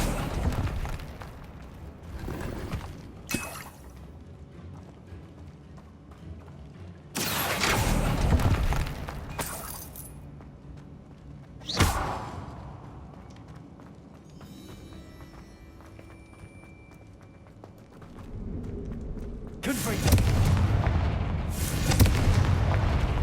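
The Confringo blasting spell in Hogwarts Legacy, cast inside a decaying catacomb, sets off several booming explosive bursts spread across quieter stretches. Each burst is loud and close with a rumbling tail.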